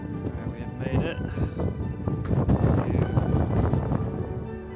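Strong wind buffeting the microphone outdoors near Zahara in Spain, with gusty rumbling and rustle, under someone speaking.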